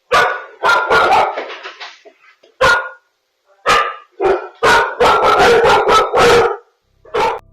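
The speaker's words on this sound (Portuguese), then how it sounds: "os cães ficam agitados e começam a latir sem parar" Dogs barking agitatedly in loud, close bursts, several sharp barks in quick clusters with brief pauses between, continuing almost nonstop.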